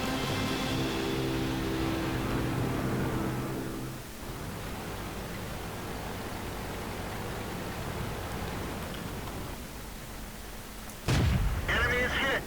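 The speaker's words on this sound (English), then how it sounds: "I just want to put a load of shots into this guy as he's not particularly paying attention" A tank cannon fires once in the video game World of Tanks, a single heavy blast late in the clip after a stretch of low droning engine rumble and steady battlefield noise.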